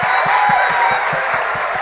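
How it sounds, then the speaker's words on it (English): Audience applause at a Taiwanese and Saint Lucian cultural evening: a steady, dense wash of clapping from a crowd that sustains at an even level for about two seconds, with a faint low thumping underneath. "why don't we give the hosts another round of applause?"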